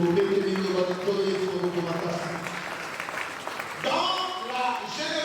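Congregation at a church gathering applauding, a dense wash of clapping from many hands that is loud at first, eases, then swells again, mixed with a speaking voice.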